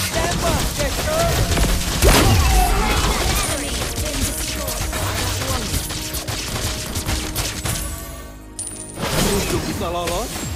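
Gunfire in a shooting video game, with a loud continuous barrage of rapid shots and mechanical clatter under game music and voices, easing briefly near the end.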